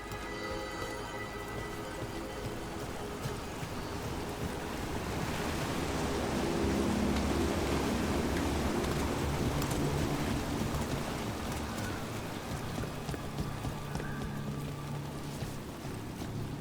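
Waterfall in the video game Dragon Age: The Veilguard, a dense, steady rushing roar of falling water that swells slightly midway and stays loud and constant, without voices.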